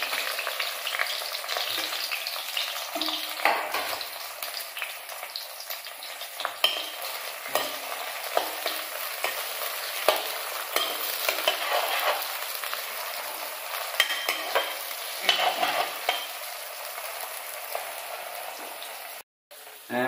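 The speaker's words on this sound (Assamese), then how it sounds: "এতিয়া পিঁয়াজখিনি দি দিম লগতে জলকীয়াকেইটাও দি দিম" Onions and green chillies fry in a pan with a steady, close sizzle and crackle that runs continuously with small spits and pops.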